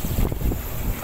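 Refrigerant gas pressure vents from an air conditioner while its outdoor fan motor is being removed: a steady, close rushing hiss over a low rumble that runs without a break through the whole moment.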